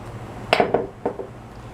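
Dry spices (salt, cinnamon, allspice, nutmeg) stirred in a bowl for a Jamaican Easter bun, giving a few close clinks and scrapes of a utensil against the bowl, with no talking.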